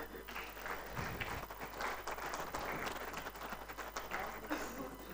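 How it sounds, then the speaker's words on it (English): Audience at a formal awards ceremony applauding for a visiting First Lady, a sustained, fairly distant and even roll of clapping lasting about five seconds. "Another round of applause"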